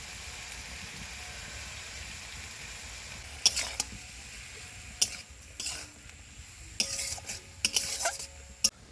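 Spice powders of salt, turmeric and chili being stirred into a simmering fish curry of katla with drumsticks, giving a steady low sizzle broken by several sharp scraping clinks of a spoon against the pot, with no talking.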